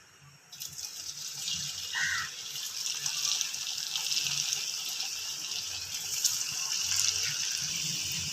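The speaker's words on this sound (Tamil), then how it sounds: "ஒன்று ஒன்றா போட்டு நம்ம பொரிச்சிக்கலாம்." Wheat-flour egg rolls sizzle in hot oil, a steady bright hiss and crackle that starts abruptly and holds fairly loud and close throughout, with small pops scattered across it.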